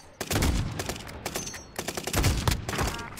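Rapid bursts of automatic gunfire from a Warzone video game match, dense repeated volleys in two clusters with brief lulls, loud and continuous over about three seconds.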